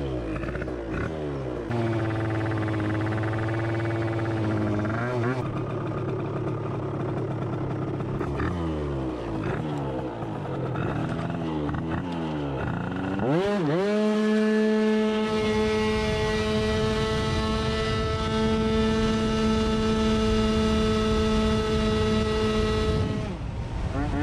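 Yamaha vehicle engine pulling hard on a 200 metre run after transmission adjustment, revs rising in steady sweeping climbs to a sustained high whine, loud and close throughout with no talking.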